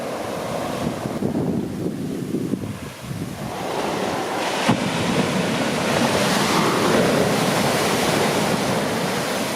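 Ocean waves rush up onto a beach at Secrets Cabo, a continuous loud surf wash swelling and receding, with wind buffeting the microphone and no one speaking.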